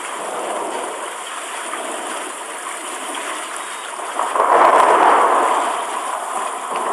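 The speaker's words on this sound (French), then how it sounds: "L'eau commence à envahir le lit asséché de la rivière." Water floods a dry riverbed on the Serengeti plain ahead of a storm, a steady broad rushing wash that swells louder for a couple of seconds before settling back, with no voices.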